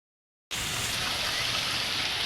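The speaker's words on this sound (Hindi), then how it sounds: "तेज़ बारिश हो रही है" Heavy rain pours down during a windy storm over a city, water rushing off a roof; after half a second of silence a loud, dense, steady hiss of falling rain begins and continues without a break.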